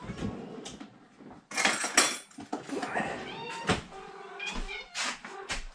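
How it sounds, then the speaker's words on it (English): A teaspoon clinks and scrapes against a can of wet cat food in a kitchen, with dish and cupboard noises around it, while a cat meows repeatedly nearby. "It's time to get a teaspoon of wet food."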